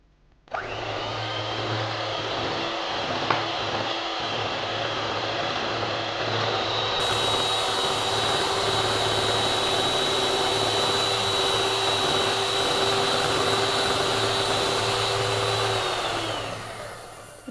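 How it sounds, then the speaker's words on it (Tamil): An electric mixer beats sugar, butter and egg yolks for a Christmas cake batter, a loud, steady motor whine running unbroken for about sixteen seconds before winding down, with no voices. "இப்போ இதுக்கு வந்து முட்டையோட மஞ்சக்கரு வந்து ஒன்றா ஆட் பண்ணி பீட் பண்ணிக்கலாம்."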